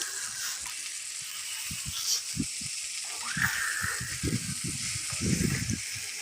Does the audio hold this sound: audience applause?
no